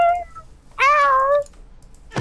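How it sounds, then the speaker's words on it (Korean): A cat meows in a Minecraft horror map inside a high-rise office building. One clear, drawn-out meow stands alone after a faint earlier chirp, and a short noisy burst follows at the end. "어? 고양이다."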